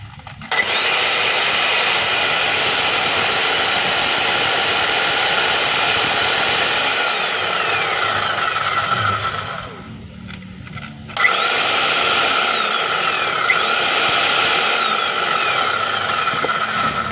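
A DeWalt D25899 10 kg jack hammer runs with a loud, continuous high-pitched motor whine and rattle, cutting out briefly before starting up again.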